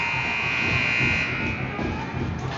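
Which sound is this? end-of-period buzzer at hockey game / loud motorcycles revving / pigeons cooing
end-of-period buzzer at hockey game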